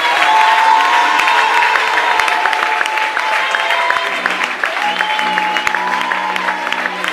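A church congregation applauds and cheers at worship, a dense, steady wash of clapping and voices filling the whole stretch, with sustained sung or shouted tones running underneath.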